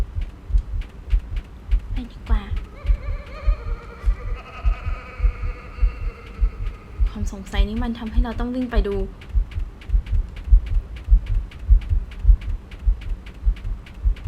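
Steady, rhythmic heartbeat effect thumps from the horror game Office Paradox, looping from start to finish beneath someone talking briefly in the middle.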